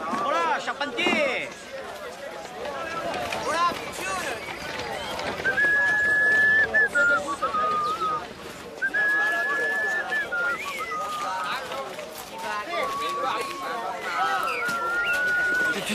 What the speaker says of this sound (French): Tu sifflotes